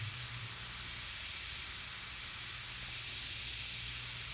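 Airbrush spraying paint while detailing a realistic eye, a steady soft hiss of fine spray running continuously at low level with no voices.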